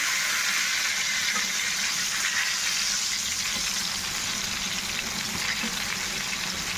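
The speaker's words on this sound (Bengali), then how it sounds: "বেগুনটা ভাজা হচ্ছে, হোক।" Eggplant slices fry in hot oil in a home kitchen, a steady, close, even sizzle and crackle that holds at one level throughout with no talking.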